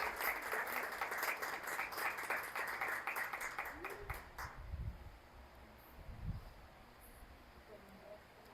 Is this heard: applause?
yes